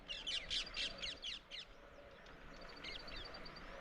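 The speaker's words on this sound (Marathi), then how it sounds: "पोपटांचा आवाज" A rapid series of shrill, screechy parrot calls from a flock bursts out near the start, then fainter squawks follow over a soft background hiss.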